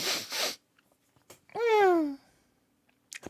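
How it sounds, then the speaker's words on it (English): A person's sneeze, a sharp burst followed by a short nasal wail-like tail, alone and close to the microphone with brief noises around it. "I usually mute myself when I sneeze"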